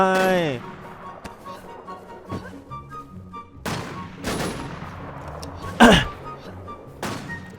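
Gunfire in the online zombie survival shooter Infestation NewZ, several sharp broadband shots cracking at uneven intervals, with one louder burst near the end, amid a quieter game background and a low voice.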